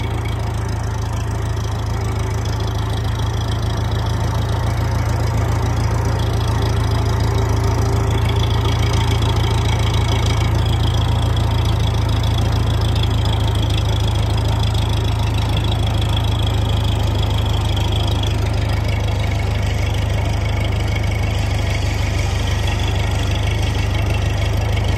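A steady engine idles for the whole stretch, a constant low rumble with a mechanical hum above it, close by and unbroken, in a woodland firewood-logging setting.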